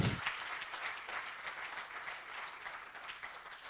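An audience applauds at an award ceremony for audiovisual communication, ASCOM 2022, in Côte d'Ivoire. The clapping is dense and continuous, moderately distant, fading slightly toward the end.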